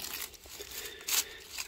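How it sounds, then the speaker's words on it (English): Crunchy dead strawberry leaves get pinched off by hand, producing close, dry crinkling and tearing rustles with a sharper crackle partway through. "That's crunchy, we'll pinch those off."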